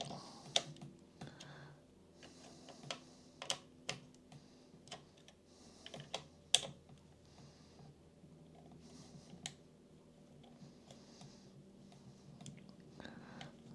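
Screws are tightened by hand while a Dalek is being built, producing faint, scattered clicks and small ticking taps at an irregular pace in a quiet room, with no talking.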